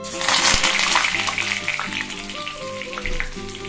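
Meal maker (soy chunk) pakoras with green chillies and curry leaves frying in hot oil, a steady bright sizzle and crackle filling the whole stretch, fairly loud and close, with soft kitchen clatter beneath.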